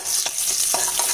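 Green chillies and tempering spices for a mutton biryani sizzle in hot oil, a brief steady hiss broken by a few short stirring scrapes, close and alone without voices.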